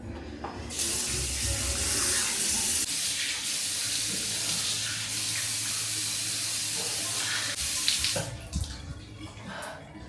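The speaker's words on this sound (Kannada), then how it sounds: "ಸ್ವಲ್ಪ ಫೇಸ್ ವಾಶ್ ಮಾಡ್ಕೊಂಡ್ಬಿಡ್ತೀನಿ" Tap water running steadily into a sink during a face wash in a parlour grooming session, a continuous close splashing rush that cuts off near the end.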